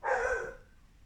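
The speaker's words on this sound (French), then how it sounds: "le chien qui aboie" A dog gives a single short bark at a moderate distance, fading quickly into quiet background.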